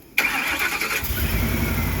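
A Ford 3V engine with a bad PCM cranks and catches abruptly, then settles into a steady, close idle with a rough, slightly uneven rumble.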